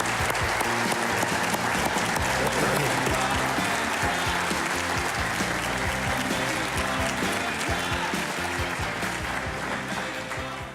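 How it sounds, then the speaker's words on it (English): An audience breaks into sustained, dense applause for Governor Ducey, loud and continuous clapping filling the room and tapering slightly near the end. "Ladies and gentlemen, big round of applause for Governor Ducey"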